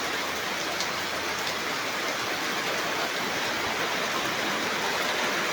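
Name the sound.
light drizzling rain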